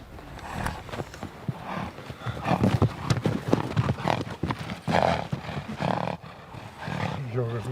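Horses on the steppe whinny while their hooves clop in a dense, busy mix, loud and close, with a voice speaking over it.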